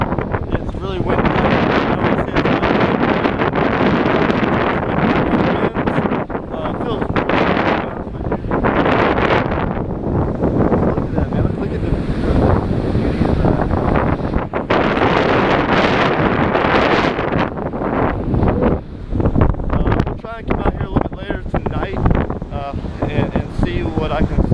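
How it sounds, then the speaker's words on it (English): Strong wind during Hurricane Matthew buffets the microphone in heavy, continuous rumbling gusts that surge and ease throughout, loud and close, with no clear talking over it. "It's really windy."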